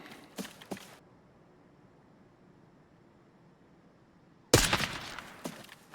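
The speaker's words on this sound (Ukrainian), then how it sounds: "Це по мені бот стріляв, як думаєте," Sharp, loud gunshot bursts in the game Arena Breakout crack out: a couple of quick shots at the start, a long quiet gap, then a heavier volley with echoing tails.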